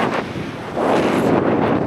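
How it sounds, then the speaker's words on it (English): Strong gusting wind buffets the microphone on a high-altitude rainbow mountain hike in Peru, a loud rushing roar that swells sharply midway and stays steady, with no voices. "It got absolutely windy."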